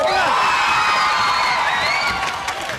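Crowd of children in a TV quiz show studio audience cheering, whooping and clapping loudly and continuously, with excited shouts rising over the din before easing slightly at the end.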